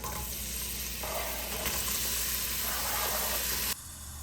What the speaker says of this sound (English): And you'll hear it sizzle.